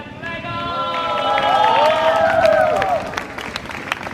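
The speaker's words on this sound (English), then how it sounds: "Big round of applause, everyone" A crowd claps and cheers at the start of a Commonwealth Games baton relay at a university, lively applause with raised voices and whoops rising in the middle and easing toward the end.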